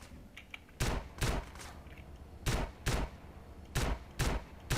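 Shotgun fire in the video game GTA San Andreas, a series of sharp blasts in uneven pairs with short gaps between them, fairly faint under a low background.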